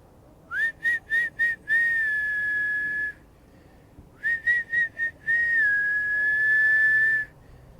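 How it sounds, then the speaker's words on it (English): A person whistles to call stray cats: two bursts, each of four short chirps followed by a longer sustained note, loud and close against a quiet background with no talking. "I'm a terrible whistler."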